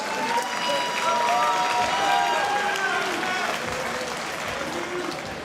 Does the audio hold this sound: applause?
yes